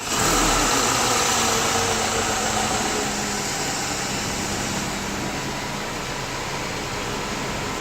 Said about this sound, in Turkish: Arabamızın yağını koyduktan sonra çalıştır.